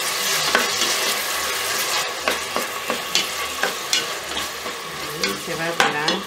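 Chopped onion fries slowly in a pan, a continuous close sizzle broken by repeated rhythmic spoon scrapes and stirring clatter, no voices.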